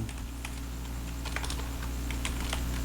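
Rapid, steady typing on a computer keyboard while entering text into a spreadsheet, a dense run of close key clicks over a constant low electrical hum, with no voices.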